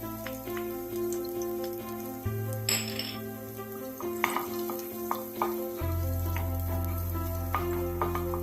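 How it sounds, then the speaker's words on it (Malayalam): Chopped garlic sautéing in coconut oil in a pan gives a steady close sizzle with occasional clinks and scrapes, running alone for several seconds beneath a low continuous hum. "ഇനി അതിലേക്ക് നമ്മൾ കട്ട് ചെയ്ത് വെച്ചിട്ടുള്ള വെളുത്തുള്ളി ചേർത്തൊന്ന് വഴറ്റിയെടുക്കാം."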